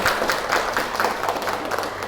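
A short round of clapping from students in a classroom, brisk and fairly close, a dense patter of hands that holds steady for a couple of seconds with no talk over it.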